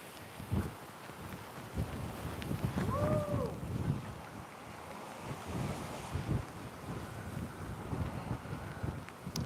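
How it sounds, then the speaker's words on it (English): Wind gusts and roars across the microphone in uneven bursts during a hurricane, with a faint wash like surf in the background. "Oh yeah, wind is definitely kicking up over on this side."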